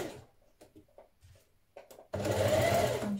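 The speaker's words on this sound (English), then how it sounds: "we're going to stitch that in place now at the same time as we do the shoulder seam" A sewing machine stitches seam tape into the shoulder seam of a wrap dress, starting after a few light clicks and handling noises and running as a loud, steady close whirr to the end.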